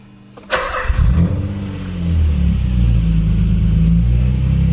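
Barn find car cranking over and catching with a loud starter whir, then settling into a steady, rumbling idle close by, without any voices.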